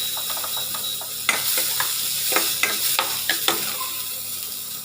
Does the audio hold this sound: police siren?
no